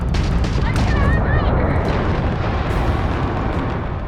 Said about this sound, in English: After destroying an enemy ship, you can loot the remains from your cockpit.